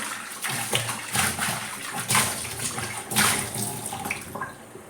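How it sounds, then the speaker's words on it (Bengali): Water runs steadily over a karahi wok being washed, with splashing surges and scrubbing bursts close by, continuous and fairly loud throughout, no talking. "একটু ভালো করে ধুয়ে নিই কড়াইটা।"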